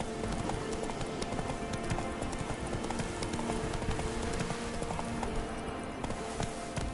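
Horse hooves galloping across ground, Roach's clip-clop pounding in a fast, steady rhythm throughout in The Witcher 3 game, loud and close over a continuous busy background.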